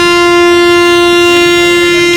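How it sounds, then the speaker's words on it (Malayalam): A Vande Bharat train sounding its horn as it arrives at a station, one loud, sustained, close blast that holds steady and rich in harmonics for the whole stretch. "അതാ പമ്മി വരുന്നത് നമ്മുടെ വന്ദേ ഭാരത് ട്രെയിനാണ് കേട്ടോ"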